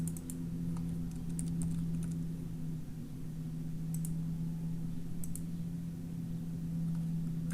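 Typing on a computer keyboard: short bursts of light key clicks scattered over a steady electrical hum, fairly quiet, with no talking.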